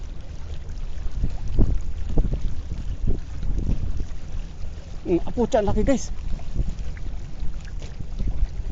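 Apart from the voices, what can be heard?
strong wind while fishing from a boat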